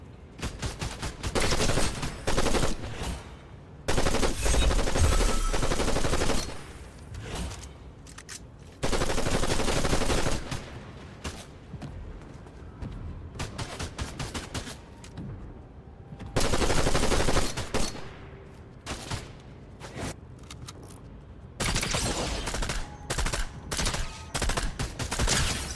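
Repeated bursts of gunfire in a LEGO Fortnite Star Wars cave battle, loud clustered volleys and rapid machine-gun-like runs separated by short quieter gaps, with game sounds in between.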